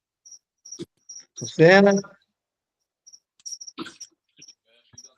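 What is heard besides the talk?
cricket chirping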